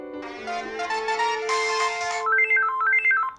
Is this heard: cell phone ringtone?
yes